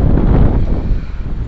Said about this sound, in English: Boy howdy, it's windy today.